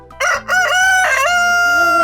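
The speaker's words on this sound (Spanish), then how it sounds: "¡Gallo!" A rooster crows loudly and close, one long drawn-out cock-a-doodle-doo with rising and falling pitch, heard alone.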